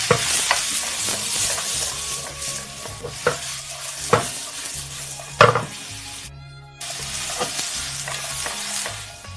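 Luffa tossed into a wok over hot oil with dried chilies, Sichuan peppercorns and garlic, sizzling loudly while a spatula scrapes and clanks against the metal in irregular strokes; the sizzle cuts out briefly near the end, then returns.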